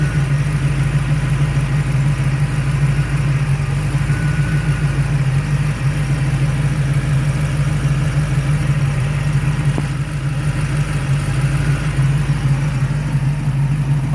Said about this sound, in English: Nice little running car.